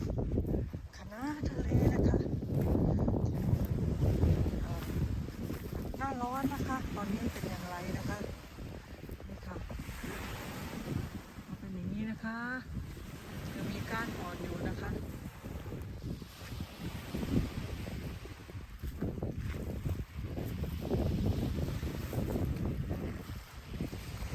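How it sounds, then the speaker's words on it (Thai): Strong wind buffets the microphone on a summer day on the Danish coast, a continuous rumbling roar with gusts, while someone talks over it throughout. "วันนี้ลมแรง"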